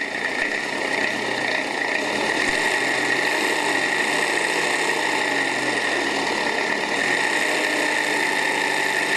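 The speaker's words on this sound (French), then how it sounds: "Voici maintenant que le moteur est en marche." A diesel engine runs steadily at idle, a continuous rattling drone with constant loudness throughout, close by.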